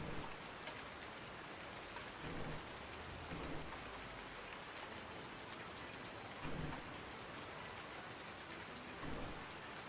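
Steady rain with rolling thunder in the farming video game Farming Simulator 19, a dense continuous downpour with a few low rumbles swelling and fading throughout, no voices.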